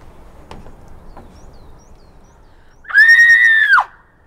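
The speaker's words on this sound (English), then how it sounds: "I dare you to scream as loud as you can." A person lets out one loud, high, sustained scream lasting under a second. It bursts out sharply after a quiet stretch with faint background knocks.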